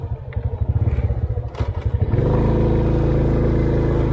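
Motorbike on an island road in Malaysia: the engine sputters and ticks unevenly at first, then settles into a steady, loud running drone close by, with no talk.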